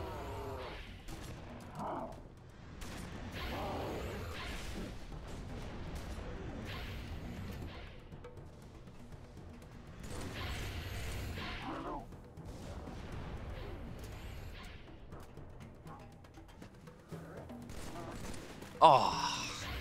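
Gunfire in the Halo 3 campaign level The Storm, with a player using a sniper rifle: scattered booming shots and crashes amid game noise, a sharp louder report near the end, a voice talking over parts.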